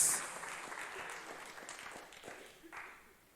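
Church congregation clapping during a sermon, a moderate round of scattered applause with distinct individual claps that gradually thins and fades toward the end, slightly distant and faint.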